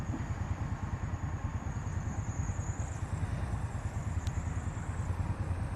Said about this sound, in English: Got a noisy fan belt, mate.